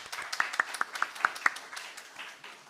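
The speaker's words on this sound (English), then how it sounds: "Give him a little applause in prayer" A small church congregation at a Unitarian Universalist Sunday service claps for bassist Andy Crabb, a brief round of sparse, distinct hand claps with a few louder individual claps standing out before it fades.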